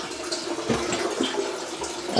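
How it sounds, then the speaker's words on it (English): Water trickles weakly from a clogged faucet in a Baltimore home, making a steady, close hiss with small gurgling irregularities and no talk. "the faucet set itself is clogged, and it's not allowing a normal flow of water"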